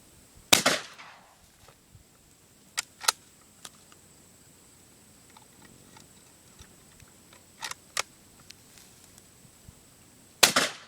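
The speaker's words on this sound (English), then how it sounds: "now we're going to go ahead and let Josh take a couple shots with it." Sharp single reports from a Mossberg 183D .410 bolt-action shotgun fired outdoors, about five shots spaced irregularly with quiet pauses between, each a crisp crack with a brief tail, the first and last loudest.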